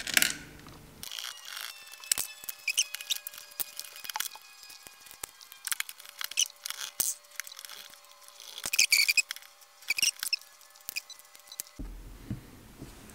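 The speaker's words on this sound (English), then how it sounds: "now I'm going to undo the three screws on this main logic board." Screws being undone on the main logic board of a DJI Digital FPV radio during a teardown: faint small clicks and ratcheting ticks from a screwdriver, scattered across a quiet background with no talking.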